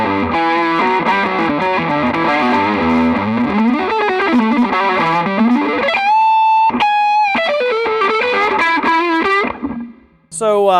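Heavily distorted electric guitar, a Kiesel FG1, plays a busy lead line with sustained bent notes and chords, loud and up front, cutting off briefly near the end.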